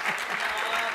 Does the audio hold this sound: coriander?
no